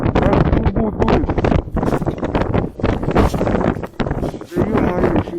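Strong wind roars across open ice during a blizzard on an ice-fishing trip, a loud, steady buffeting rush against the microphone with gusty swells and voices talking through it.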